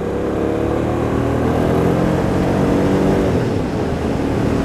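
A 2008 Hyosung GT650R with a Scorpion aftermarket exhaust on an airport perimeter road gives a loud, continuous, dense engine roar that holds steady throughout.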